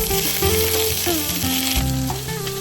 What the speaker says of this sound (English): Time to saute the veggies,